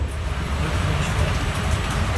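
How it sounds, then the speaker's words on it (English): Onboard rumble of a train bound for Pisa from Florence's central station, a steady low rolling drone with faint rattling, continuous and fairly loud throughout. "I am now on the 9:30 train"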